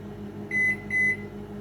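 Microwave oven reheating frozen sticky rice beeps twice, two clear even tones about half a second apart over a low steady hum of the running oven.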